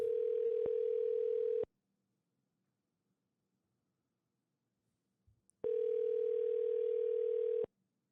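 Two long electronic telephone ring tones separated by several seconds of silence, steady and fairly faint, with a small click between them.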